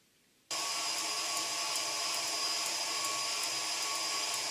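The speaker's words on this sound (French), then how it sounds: "on va mettre à monter nos blancs qu'on va venir serrer avec notre sucre" An electric mixer switches on abruptly and runs at a steady high-pitched whine while whipping egg whites, close and continuous with no talking.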